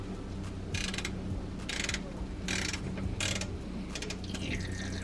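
A ratchet clicks in short bursts as it loosens an oil filter on a Nissan 350Z, giving several quick runs of close, dry ticking over a steady background hum.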